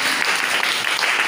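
A congregation at a Tamil church service claps in praise, a loud, continuous patter of many hands close by with no voices over it.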